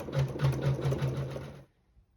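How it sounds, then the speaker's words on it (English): A sewing machine stitches feathered quilting on a quilt block in a hoop, a fast, even rhythmic whirring and clatter close by for about a second and a half before stopping abruptly. "So now we'll go ahead and sew our feathered quilting."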